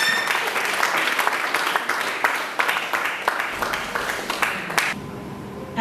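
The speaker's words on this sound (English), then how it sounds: "Please clap." Conference attendees clap for a speaker called to the rostrum, with scattered individual claps standing out from a fairly full round of applause that stops abruptly near the end, leaving a quieter room.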